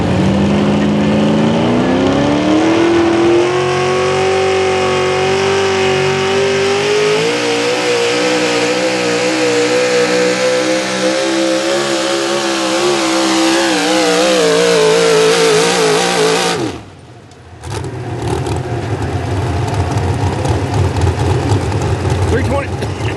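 Silver Bullet, a Sportsman-class 4x4 truck, roars at full throttle during an evening truck pull, engine pitch climbing and holding loud for a long stretch before cutting off abruptly, then crowd and track noise while an announcer talks over it.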